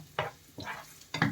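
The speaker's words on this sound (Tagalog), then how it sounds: "lagay ko na yung aking luya. Hindi na parami ang aking mantika." Ginger fries in a small amount of cooking oil, heard as three short, close bursts of sizzle and stirring with quiet gaps between them.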